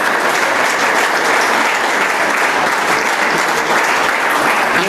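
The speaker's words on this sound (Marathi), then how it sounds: "मधातच एवढ्या टाळ्या वाजू नका" Steady, loud audience applause from a seated crowd at a career academy's anniversary function. The clapping is continuous and evenly dense throughout, with no speech over it.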